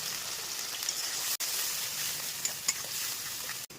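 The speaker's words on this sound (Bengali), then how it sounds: "যে পেস্টটা করলাম এক্ষুনি সেই পেস্টটা এখানে দিয়ে দিলাম। এটাকে লো ফ্লেমে খুব ভালো করে কষবো।" Onion and spice paste frying in a pan on a low flame, a steady close sizzle with scraping stir strokes throughout and a couple of brief pauses.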